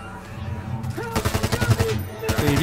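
Rapid bursts of gunfire ring out while shooting zombies in a World War Z mission set in Tokyo, the shots coming in quick, loud repeated volleys with a short pause before firing resumes.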